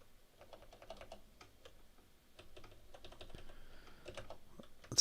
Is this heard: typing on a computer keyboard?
yes